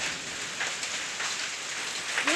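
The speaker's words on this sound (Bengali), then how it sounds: "প্রথমে এই শিলের বৃষ্টি হচ্ছে।" Hailstorm with heavy rain pouring down, a dense continuous hiss of drops and pellets striking surfaces, loud and steady without pause.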